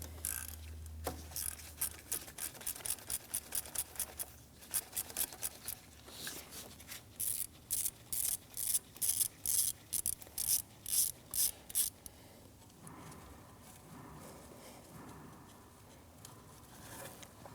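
A ratchet on an extension with a T25 socket works a bolt loose on a 2009-2017 Audi Q5 during variable valve timing solenoid removal, giving close, crisp bursts of rapid clicking in quick repeated strokes with no talk.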